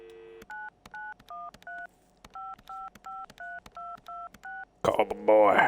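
A telephone keypad beeps through a quick series of dual-tone presses as a number is dialed, a dozen or so evenly spaced tones after a brief dial tone, then a voice starts speaking at the end.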